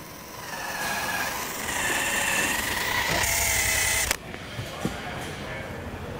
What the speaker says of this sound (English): I can just go back over it with my eraser wheel.